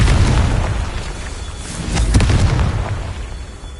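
A Confringo fire spell detonates in the game Hogwarts Legacy, a loud close boom with a rolling, crackling blast that swells again after the first burst.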